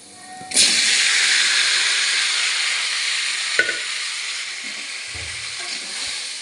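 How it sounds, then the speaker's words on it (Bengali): Tomatoes go into a hot pan of oil tempered with mustard seeds and panch phoron for a chutney. A sudden loud sizzle erupts and holds as a steady hiss, with a brief clink and soft stirring noises later. "এবার টমেটোটা দিয়ে দেবো"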